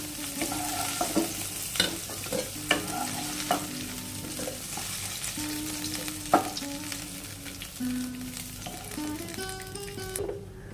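Vegetable stalks frying in a pan for a Bengali dal shukto, lightly stirred, with a steady sizzle under repeated scraping strokes of a spatula, close and clear, no talking.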